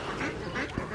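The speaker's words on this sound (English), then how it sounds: "there's your ducks, all settled in the new home with the crazy duck lady of Madera" Young ducklings quack in a short, close burst of soft nasal calls at their new home.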